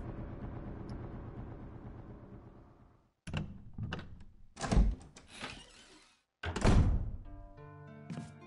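A door in the Resident Evil HD video game, with a sustained tonal rumble that fades out, then a series of heavy mechanical thunks and clunks as the door opens, and a final heavy thud over a lingering hum.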